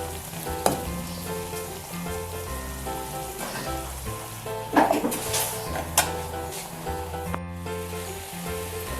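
Okra (bhindi) sits steaming on very low heat in a covered pan, giving a steady soft sizzle and frying hiss with a few faint clinks of the pan, and no one talks over it.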